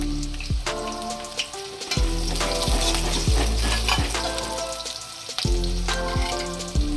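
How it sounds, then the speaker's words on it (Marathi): Chopped spring onion goes into a hot frying pan of hotel-style chilli paneer, raising loud, close sizzling with repeated scraping stirs and clanks of a spatula against the pan. "लगेच आपण ह्या पातीचा कांदा कापून ठेवला होता थोडासा तो टाकून घेऊया"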